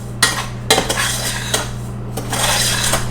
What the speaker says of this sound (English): I like to kind of stir in the cocoa with the sugar